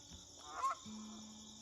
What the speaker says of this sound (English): I'm gonna see our early morning honker flock.